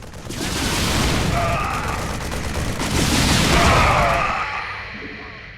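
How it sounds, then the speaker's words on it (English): A Banshee gunship from the StarCraft II video game firing volleys of rockets at ground targets, two swelling rushes of rapid blasts and booms, loud and dense, with a voice talking over them. "It fires a volley of rockets at enemy ground targets."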